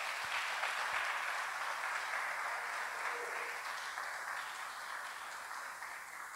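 A church congregation applauds during a service, a steady wash of many hands clapping that fades slightly toward the end, with a faint voice briefly underneath.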